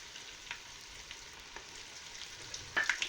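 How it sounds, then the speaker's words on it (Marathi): Garlic-ginger paste sizzling in hot oil with cumin seeds for an eggplant curry, a soft, steady fry with a few faint ticks and a brief louder crackle near the end, no voices. "तर हे ना आपल्याला छान लसूण अद्रकची पेस्ट तळून घ्यायची"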